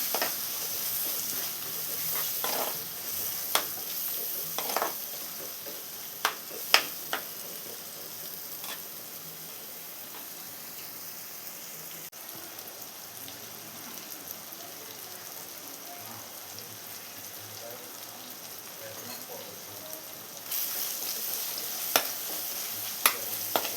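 Chopped medium tomato being stirred into a sizzling fish curry base in a pan, with a steady frying hiss throughout and scattered scraping taps from the spoon, close and moderate in volume.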